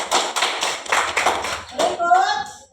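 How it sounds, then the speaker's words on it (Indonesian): Children clap their hands in a classroom during a Qur'an lesson on Surah An-Nas, several quick sharp bursts of close clapping over about two seconds, followed by a voice speaking. "Tepuk tangan."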